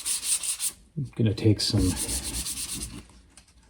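Sandpaper of 320 grit rubs primer smooth on an R2-D2 dome ring in quick, close strokes that make a raspy scratching rhythm, with someone speaking briefly between strokes.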